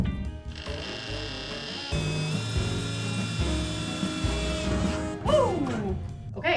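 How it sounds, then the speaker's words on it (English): A hole saw with cutting oil bores through the steel wall of a 40-foot shipping container, giving a loud, steady grinding whine with shifting tones that ends in a rising squeal as the cutter breaks through. "I'm gonna drill this hole from the outside coming in"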